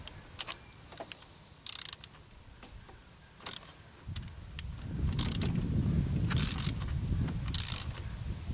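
Sharp metallic ratchet clicks come in short bursts as a hand ratchet tightens a car spark plug, with brief pauses between strokes and a low rumble building underneath in the second half.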